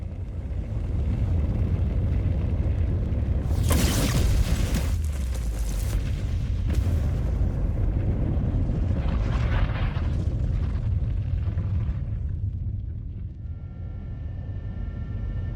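Naval battery artillery in MechWarrior 5: Clans, a heavy rumbling bed broken by a loud booming blast that trails into rolling explosions and fades to a low hum.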